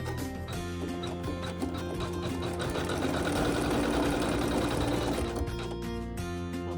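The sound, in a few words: sewing machine stitching quilting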